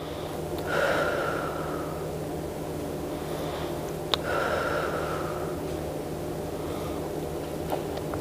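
Slow, deep breaths drawn in and let out during a stretching exercise, two long airy inhalation-exhalation cycles heard close against a quiet background with no talking.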